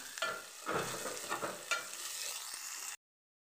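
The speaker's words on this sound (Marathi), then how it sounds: "त्यामध्ये टाकून घेते मी कांदा आणि मिरची. छान परतून घेते." Onion and green chilli sauté in a pan, giving a close sizzle broken by several scraping stirs of a spoon before the sound cuts off abruptly.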